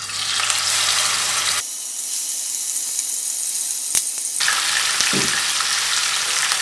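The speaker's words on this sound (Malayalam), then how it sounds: "നമുക്ക് ഈ മീൻ കഷ്ണങ്ങളെ വറുത്തിടാം." Pieces of king fish fry loudly in hot oil, giving a dense, continuous sizzle up close that stays strong throughout, with a brief sharp clink partway through.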